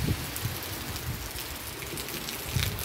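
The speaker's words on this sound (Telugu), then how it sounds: "ఫుల్ వర్షం పడుతుంది, భారీ వర్షం" Heavy rain pours steadily over a village in Guddi Malkapuram, a dense, continuous hiss of drops hitting the ground and surfaces close by, with no talking.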